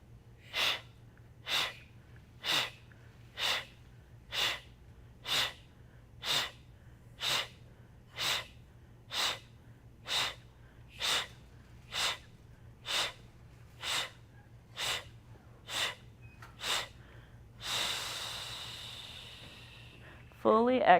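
Forceful yoga breathing exhalations pumping the belly during a gentle yoga session: about fifteen sharp, evenly spaced breath bursts roughly one per second, close and clear, ending with a longer rushing exhale and a brief rustle.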